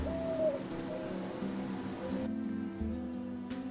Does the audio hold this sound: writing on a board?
no